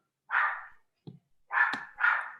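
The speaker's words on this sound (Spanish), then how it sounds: "Y esos perros están haciendo mucha bulla." Dogs bark a few times at a distance, giving three or four short, separate woofs with brief pauses and one faint, softer sound in between.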